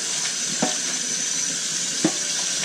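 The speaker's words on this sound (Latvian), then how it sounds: "Izskalosim vēl kārtīgi." Tap water runs steadily while a hot clay flower pot is rinsed clean before repotting an orchid, a constant hiss with two soft knocks of the pot against the sink.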